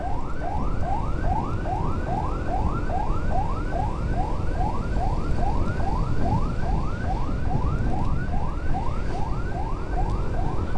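An ambulance siren wails, sweeping up and down in steady repeating cycles, loud and continuous, with traffic rumble underneath and no talking.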